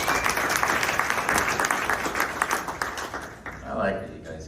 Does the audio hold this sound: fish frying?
no